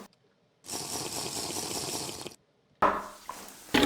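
Water gushes steadily from a tap for almost two seconds, stops, then runs again in shorter noisy bursts, close and fairly loud with no talk.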